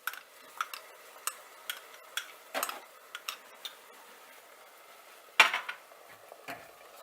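A utensil stirs pasta in a bowl, making a series of distinct light clinks and scrapes at uneven intervals, with one sharper knock near the end, set against a quiet background.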